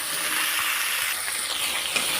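Bitter gourd, eggplant and drumstick fry in a pan with a steady, close crackling sizzle that holds even throughout, with a few faint stirring scrapes and no voices.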